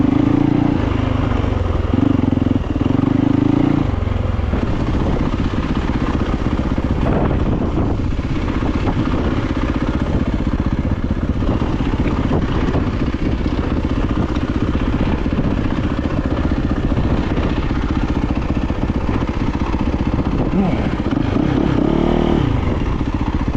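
A Yamaha YZ450FX dirt bike fitted with a G2ergo throttle tamer rides continuously, its engine droning steadily and close throughout, with brief clattering bumps along the trail.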